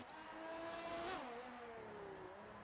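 A Formula 1 race car on the Singapore street circuit in an F1 game, its engine revving hard and rising in pitch, briefly dipping as it shifts, then climbing again, loud and close with no talking.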